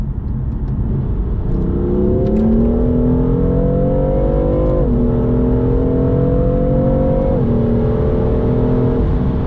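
A 600 hp BMW M4 pulls hard in third gear to overtake, its engine note climbing steadily and loud with two brief dips at each shift, a continuous close roar throughout.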